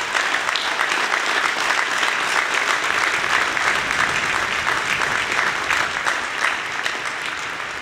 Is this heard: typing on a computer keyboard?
no